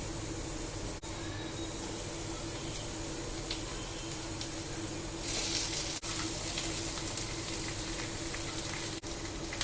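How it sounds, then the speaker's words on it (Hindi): Potatoes fry in a pan with onion and green chilli, a continuous close sizzle that swells into a louder, hissier burst partway through, then settles back to a steady crackle. "प्याज और हरी मिर्च अच्छे से फ्राई हो गई है। अब इसमें आलू ऐड कर लेते हैं।"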